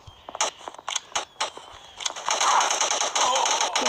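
Gunfire from a bazooka-style submachine gun in the Fortnite video game: several short separate shots, then a dense sustained burst of rapid fire, loud and close, with no talk over it.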